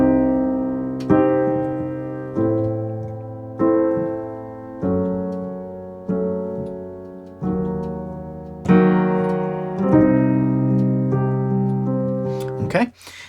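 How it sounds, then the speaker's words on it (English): Scary four-chord cycle on piano, each chord struck and left to ring and fade before the next, moving through a dark repeating progression, played solo, close and clear, with a brief scraping rustle at the end. "So that's a 4 chord sequence that you can cycle around"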